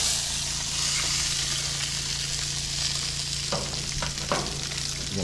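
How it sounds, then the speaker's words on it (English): Steady, close sizzling of fatty-capped meat cooking on a hot grill at a Pennsylvania deer camp, a constant crackling hiss with a low hum beneath and a few brief clatters near the end. "Oh, I love the sizzle."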